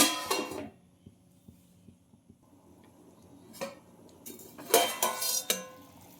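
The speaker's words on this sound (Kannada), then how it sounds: "ಇವಾಗ ಈಗ ಕುದಿ ಬರಲಿ, ಸ್ವಲ್ಪ ಹೊತ್ತು ಮುಚ್ಚಿಡೋಣ" A metal lid settles onto an open pressure cooker pot holding water set to boil for a lentil-rice dish. A few close clinks and rattles are separated by quiet gaps with faint ticking.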